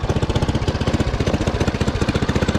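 An Arctic Cat Scat Kat snowmobile with its original engine runs after a cold start, a loud, close, steady rapid chugging pulse with an even rhythm throughout.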